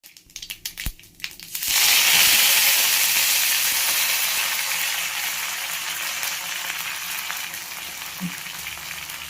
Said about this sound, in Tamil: கடாய் ஹீட் ஆயிடுச்சு. இதில் கடுகு போட்டு